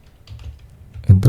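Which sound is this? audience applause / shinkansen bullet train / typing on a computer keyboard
typing on a computer keyboard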